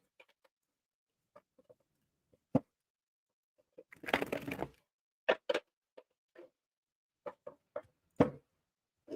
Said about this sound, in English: Let's do a couple shuffles here.